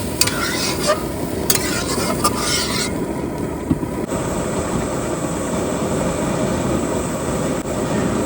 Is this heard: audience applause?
no